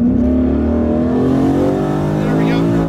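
A twin turbo 2019 Ford Mustang GT accelerating hard, engine note rising steadily in pitch with a loud, close roar, and a voice speaking over it.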